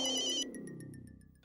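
A bright electronic phone ringtone plays briefly and then cuts off. A pulsing tail fades out afterwards, in an indoor household scene, with no talking.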